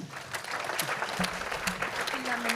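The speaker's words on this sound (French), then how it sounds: "Acclamez le Seigneur" A church congregation applauding during an evangelistic service. The clapping is steady and fairly loud, filling the space throughout, with voices calling out over it.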